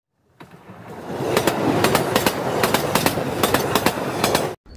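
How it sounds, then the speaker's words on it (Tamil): A MEMU passenger train between Melmaruvathur and Chennai Beach rolls along the rails close by, its loud rumble punctuated by a regular clickety-clack of wheels over track joints. "இன்னைக்கு நம்ம பார்க்க போகிறது மேல்மருவத்தூர் பீச் மெமோ ட்ரெயின்."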